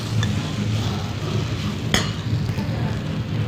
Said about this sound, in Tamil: சிம்மில் வச்சு நல்லா கிளறி விடணும்